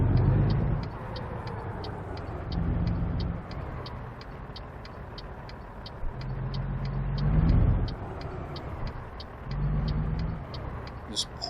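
A truck engine in the game American Truck Simulator drones low and steady, swelling and easing as gears change, while a regular ticking indicator runs over it and a person talks.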